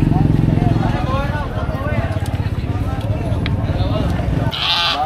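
Goats at a Philippine livestock market, bleating loudly and close amid crowd chatter, a motorcycle engine and general market noise, with people talking throughout.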